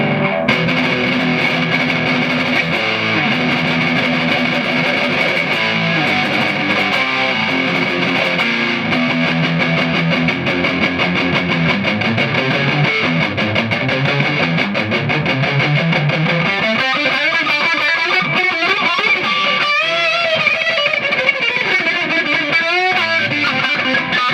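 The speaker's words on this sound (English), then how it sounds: "Finally, the HM-2 hyper metal." A Boss HM-2 Heavy Metal distortion pedal on electric guitar, thick saturated and buzzing, playing sustained chords and riffs continuously, loud and alone, with a more choppy, articulated passage in the latter half.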